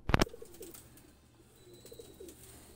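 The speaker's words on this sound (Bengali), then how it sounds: "এটা হলো মাদি কবুতর" A female Kasuri pigeon coos softly in a few low, repeated phrases after a sharp handling noise at the start, close by with no talk.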